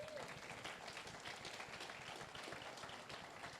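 A church congregation breaks into steady, dense applause, a sustained wash of many hands clapping that holds evenly from start to finish at a fairly low level.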